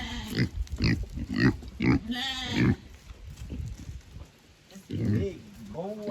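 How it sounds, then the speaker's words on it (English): Pig on a goat farm grunting in a series of short, rhythmic snorts and grunts close by, followed by a pause and more grunting, with farm background and a voice nearby. "That's a pig."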